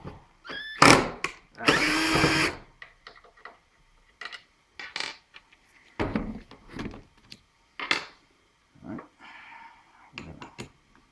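Short bursts from a power drill driving an auger bit to bore out a hole during a router table install, several brief loud whirs with pauses between, the longest near the start, plus scattered knocks and handling sounds.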